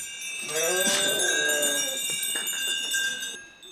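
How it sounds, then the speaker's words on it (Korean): A flock of sheep and goats leaves its pen, with bleats and animal calls at close range, a bell ringing steadily, and faint shuffling. "그야말로 순한 양과 염소들이죠."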